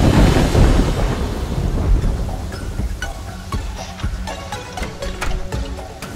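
In the video game Terraria, a thunderstorm rumbles with heavy thunder early on, then eases into steady rain with scattered sharp crackles and drops, continuous and fairly loud with no speech.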